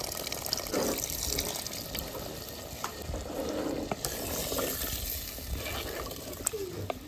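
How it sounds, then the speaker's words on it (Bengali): Water used to rinse spices is poured into a clay pot of mutton curry, a steady close trickle and splash lasting several seconds, with faint background sounds. "এই মশলার জল ধোয়া ছিল সেই জলটা দেবো, বেশি দেবো না, অল্পর মধ্যেই দেবো"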